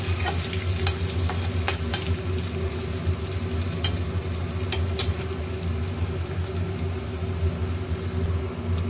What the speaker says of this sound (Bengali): এইবারে আমি রসুন দিয়ে দেবো তেলের মধ্যে।